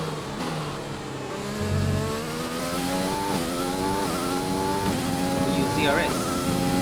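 Race car engine in an F1 racing video game at the French race, a loud continuous whine rising and falling through gear shifts as the car accelerates, with a voice talking over it.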